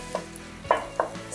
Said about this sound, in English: You notice the whole time I'm going at it with a wooden spoon, just breaking it up into smaller pieces.